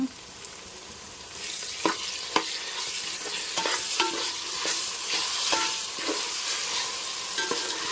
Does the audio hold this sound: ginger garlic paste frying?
yes